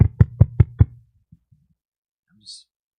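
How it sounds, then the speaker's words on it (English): Five firm knocks on a door, evenly spaced and close, followed by a quiet pause with faint stray taps. "You come knock on the door."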